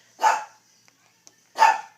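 Two sharp dog barks about a second and a half apart, fairly close, with quiet between them.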